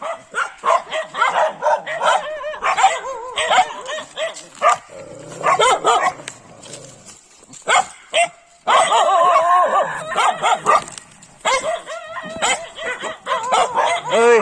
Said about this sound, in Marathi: एकूण चार कुत्रे आहेत